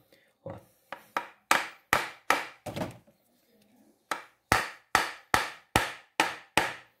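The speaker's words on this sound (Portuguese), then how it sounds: "só dá uma batidinha aqui, ó, só para ele descolar" A small piece of technyl plastic taps an Electrolux washing machine's stuck cover to loosen it, giving a series of sharp, evenly spaced knocks: a few scattered hits, a brief pause, then a steady run of about seven loud, close blows.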